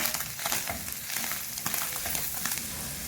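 Chicken frying in a pan as cumin powder, salt, red chili and dried coriander powder are stirred in, a steady close sizzle with scraping stir strokes throughout, no talking.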